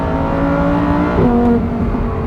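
A 2023 Lamborghini Huracan Technica engine heard from inside while driving at about 4,000 rpm and 50 mph, a loud steady drone that swells briefly in the middle.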